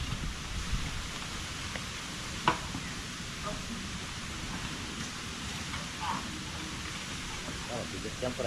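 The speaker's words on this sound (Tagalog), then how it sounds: "Umulan pa more." Steady rain falls on a surface outdoors while a net is being set up, a continuous broadband hiss with scattered drops and one brief louder knock, with some faint background voices.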